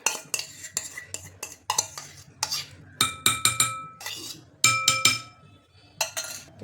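Curd scooped from a pot into a large steel vessel, with repeated sharp metallic clinks and scrapes of a spoon against steel in irregular bursts, close and fairly loud, no talking.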